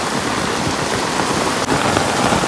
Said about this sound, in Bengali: কি পরিমাণে বৃষ্টি হচ্ছে আমি ছাতা ধরছি